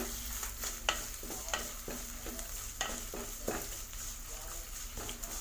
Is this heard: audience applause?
no